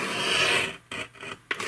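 Blade cutting through cardstock for a Halloween card, a sustained scraping rasp followed by three short sharp cuts, close and alone.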